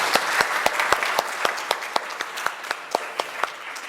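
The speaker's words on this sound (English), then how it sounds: "Let's give them a warm round of applause, please." Audience applause at a regional Asia-Pacific forum session in Muscat, a steady broadband wash of clapping with distinct individual claps punctuating it throughout, moderately loud and without speech.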